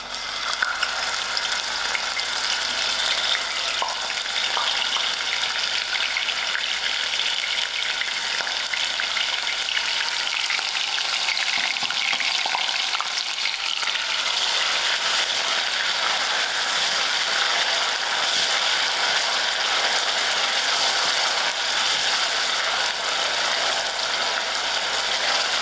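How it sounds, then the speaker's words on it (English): Onions fry in hot oil in a pan, a dense continuous sizzle that holds steady for the whole stretch, close and even, with no talking. "I'll allow these onions to fry till it's golden brown"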